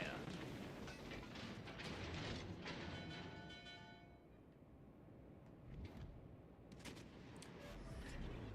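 Naval guns firing in World of Warships Legends, a deep booming salvo that rumbles on with distant follow-up blasts over a low engine drone, with a voice talking over parts of it.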